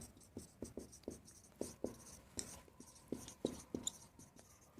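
Chalk or marker writing on a board during a maths lesson, a steady run of short scratchy strokes and taps, close and fairly quiet, with no talk over it.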